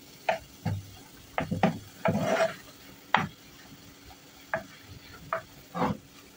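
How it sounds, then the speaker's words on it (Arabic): A spoon stirs turmeric, ginger, paprika, garlic and garlic powder in a frying pan, making a series of short, distinct scraping strokes at an uneven pace with quiet gaps between them. "نحرك هاد المكونات"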